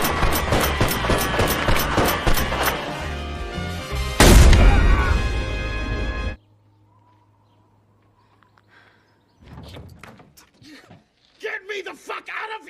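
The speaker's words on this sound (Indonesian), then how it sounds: "Setelah serangkaian aksi peledakan dan baku tembak dengan polisi" Explosions and gunfire from a film's police shootout: rapid, loud, repeated shots lead into a heavy booming blast, then sudden silence broken by scattered quieter noises.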